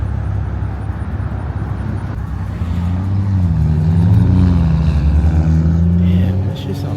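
A Toyota Supra engine drones steadily from inside the car while driving, a low throaty rumble that swells in the middle as it revs up, with some speech mixed in.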